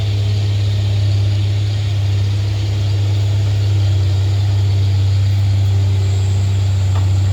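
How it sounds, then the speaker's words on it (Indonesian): Heavy dump truck engine labors at a steady, loud drone while towing another truck, a deep continuous rumble holding throughout with no voices. "Nampak sang dump truck pun kewalahan untuk menarik truk Sinabang ini"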